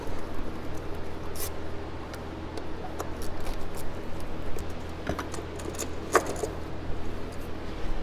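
Ratchet and tool clicks while removing the three bolts from an ignition coil on a Subaru engine, a steady run of small metallic ticks and clinks over a low background hum, no talking.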